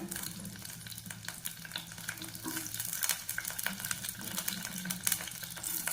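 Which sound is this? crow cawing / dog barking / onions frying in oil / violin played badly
onions frying in oil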